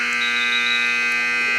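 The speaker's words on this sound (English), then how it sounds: "there's the buzzer" A steady electronic buzzer sounds at a high school wrestling match, a loud continuous tone held unbroken for the whole moment with no talk over it.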